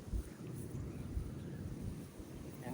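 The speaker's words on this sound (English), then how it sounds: "And it is getting windy." Wind gusting outdoors by a backyard pond, a low rumbling buffet against the microphone that stays steady and fairly quiet throughout.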